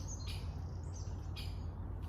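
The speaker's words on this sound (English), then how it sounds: "that's the woodpeckers." A few sharp, high calls of a great spotted woodpecker ring out over a steady background hiss, brief and moderately distant.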